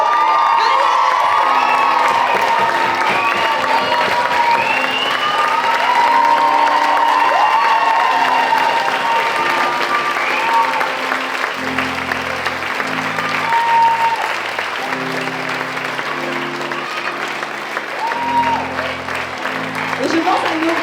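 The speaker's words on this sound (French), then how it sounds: "Je pense qu'on peut applaudir Agnès, mais fort, fort, fort." Cabaret audience giving Agnès loud, sustained applause with cheers and whoops, while a voice talks over the clapping and a musical tone plays beneath it.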